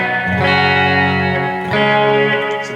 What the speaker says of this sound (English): let's go ahead and go to the next reverb machine, plate